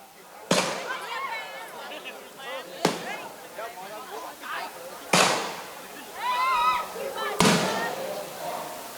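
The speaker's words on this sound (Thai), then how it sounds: "ได้เวลาสมควรนะครับเชิญพลุครับ" Fireworks go off at a Thai temple fair in Phetchaburi: four loud, sharp bangs spaced a couple of seconds apart, with voices talking in between.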